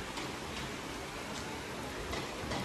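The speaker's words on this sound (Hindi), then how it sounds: "काफी बारिश हो रही है यहाँ तो।" Steady rain falls over a market street in Varanasi, a dense, even hiss that holds constant throughout without talk.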